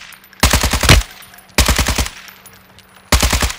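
Rapid light-machine-gun bursts in a Warzone match, three loud close strings of automatic fire separated by short pauses.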